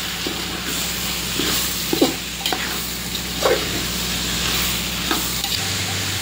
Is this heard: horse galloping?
no